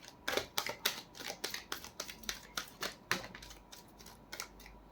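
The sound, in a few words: shuffling tarot cards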